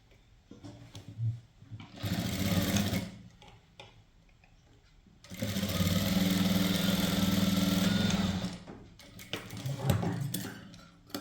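Sewing machine stitching a blouse, running in two bursts, a short one and then a longer steady whirring run with a fast mechanical rhythm, close and fairly loud, separated by quiet handling noises.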